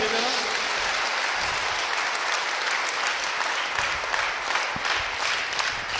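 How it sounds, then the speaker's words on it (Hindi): Congregation applauding during a Hindi Christian sermon, a loud, continuous wall of clapping held at even strength for the whole stretch. "तालियां बजा दीजिए जरा।"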